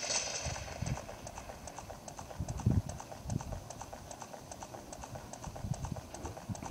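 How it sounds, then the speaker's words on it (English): Ganondorf's horse clip-clops at a steady gallop in the video game The Legend of Zelda: Ocarina of Time, its hoofbeats repeating evenly over a low rumble with no talking. "You can see Ganondorf riding on his horse."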